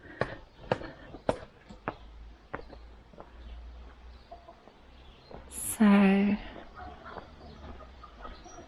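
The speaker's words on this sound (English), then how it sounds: "there's chickens down there." Chickens cluck in short, scattered calls at a rural spring in southern Alentejo, heard at moderate distance with footsteps and a brief spoken word.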